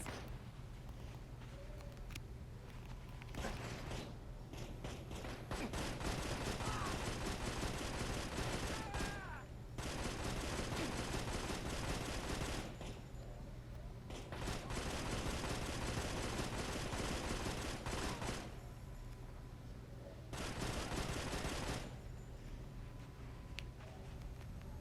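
Repeated bursts of automatic gunfire in the video game GTA Vegas at a gangster military base, loud sustained volleys a few seconds long separated by brief pauses, with game ambience between.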